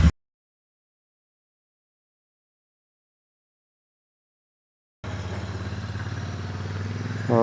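A motorcycle engine runs steadily at close range as the bike rides along, starting abruptly after a long silence and holding a continuous loud rumble with no talk.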